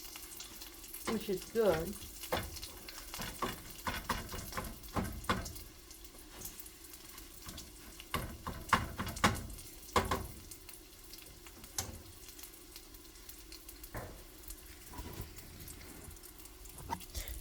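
Eggs and bacon fry in a pan with a steady sizzle, while utensils clatter and scrape through it at intervals and a voice speaks briefly.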